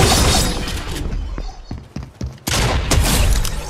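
Shotgun fire in a video game: a loud burst of blasts at the start, then sparse individual shots and clatter, followed by another heavy roaring volley near the end.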